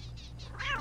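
In the video game Postal 2, a cat lets out one short meow near the end over a low, steady background hum, preceded by faint softer sounds.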